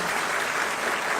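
Steady applause from an audience at a Uttar Pradesh government event, greeting a Legislative Council member on stage; a short, even burst of many hands clapping with no voices over it.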